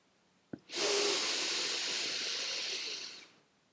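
A single long breathwork breath, one steady forceful airy exhale lasting nearly three seconds after a brief click, close and clear with no talking.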